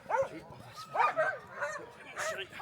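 Sled dogs bark in a repeated series of yelps outdoors at a mushing site, several bursts spread across the moment with some nearby human voices mixed in.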